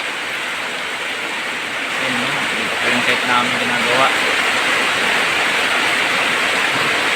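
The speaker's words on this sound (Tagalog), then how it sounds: "Walang tigil ang ulan" Steady, dense rain from a typhoon roaring close by in Marilao, Bulacan, with someone talking over it partway through.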